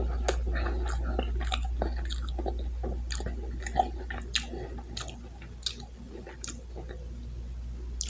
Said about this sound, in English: Then when you're chewing it, it's all chewy and doughy and soft.